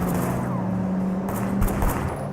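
Gunfire during a car chase in the video game Sleeping Dogs, a short burst of sharp shots cutting over continuous engine and road noise, fairly loud and close.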